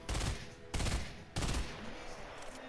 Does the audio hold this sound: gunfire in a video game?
yes